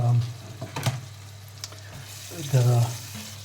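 Onions cook in oil and butter in a pan, a moderate sizzle with a few stirring scrapes and clatters, and a low steady hum running underneath.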